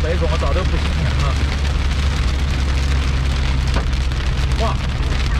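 Small hail and rain pelt the roof of a moving car in a dense, continuous patter, with a low engine and road rumble underneath.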